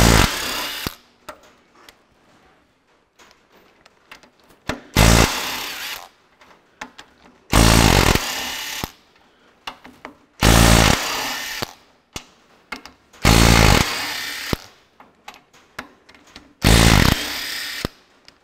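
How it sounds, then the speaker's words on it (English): Cordless Makita DTW253 3/8-inch drive impact wrench loosening stuck bolts on a Ferguson TEA20 tractor hydraulic lift cover, firing in six loud, close bursts of rapid hammering, each lasting about one to two seconds, separated by quieter gaps of clinks and handling. "Got this little 3/8 drive Makita's a beauty, DTW253."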